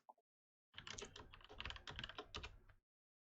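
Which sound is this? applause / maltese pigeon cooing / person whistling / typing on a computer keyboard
typing on a computer keyboard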